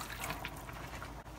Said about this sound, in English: I'll add 2 cups of water for me.